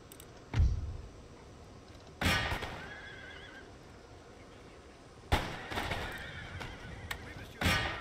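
Horse neighs from cavalry in the strategy game Total War: Empire, with a few loud whinnies bursting out at intervals over a quieter battle background.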